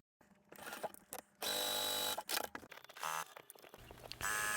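A sewing machine stitches a diagonal seam on a quilt-as-you-go bag, running in several close, loud bursts separated by short pauses.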